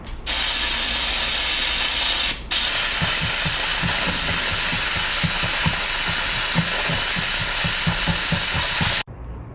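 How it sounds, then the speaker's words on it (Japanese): A handheld steamer hisses loudly and continuously against the damper felt of a Yamaha grand piano, loosening water-soluble glue, with rapid rhythmic puffing pulses underneath and a brief break early on before it cuts off abruptly. "こうやって挟んで蒸気で取ります。"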